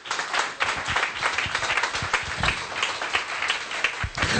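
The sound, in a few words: congregation applauding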